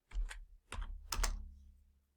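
Typing on a computer keyboard during CAD modeling, three close, crisp key taps spaced unevenly, alone in a quiet room.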